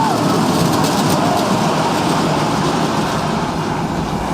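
Junior roller coaster train running at Knott's Berry Farm, a steady loud rumble and rattle of wheels on track with no talking, continuous for the whole stretch.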